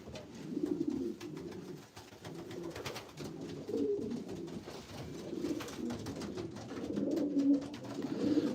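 Racing pigeons coo steadily inside a loft, several birds overlapping in a continuous low murmur of throaty coos that swells and eases over the whole stretch, close and moderately loud, with no talking.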